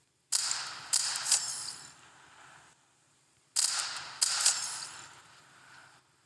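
Gunshots in the video game Mission Evo: two clusters of sharp cracking shots, each a quick burst of two or three reports with short decaying tails, separated by a brief silence.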